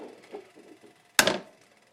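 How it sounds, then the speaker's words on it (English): A single sharp crack of an egg near the end, close and loud, after a stretch of quiet low rustling. "That's the sound of the cracking egg."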